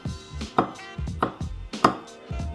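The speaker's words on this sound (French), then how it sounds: "Je vais pouvoir en faire des petites lamelles, hop. Comme si je coupais un oignon" A knife slices foraged wild mushrooms into thin strips on a cutting board, sharp rhythmic chops about every half second, close and crisp, with no voices.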